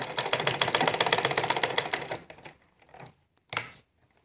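A sewing machine stitches a salwar, running in a fast, steady mechanical patter for about two seconds, then stopping and giving a few short separate bursts, close and fairly loud with no talking.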